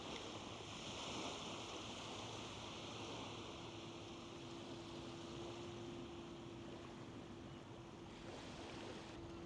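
Sea waves washing onto the beach at Blackpool near the pier, a steady broad surf rush with some wind over the microphone, continuous and fairly close, with no talking.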